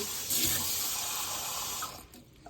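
Water pours steadily into a cooking pot for fish paksiw, a small amount added in one continuous splash and trickle that tapers off near the end.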